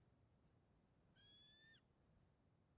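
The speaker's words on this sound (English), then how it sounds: "I already hear birds" A single drawn-out, slightly wavering bird call, like a hooting owl, rises once over a faint steady ambient hum in the video game Power Wash Simulator, lasting about half a second and fairly quiet.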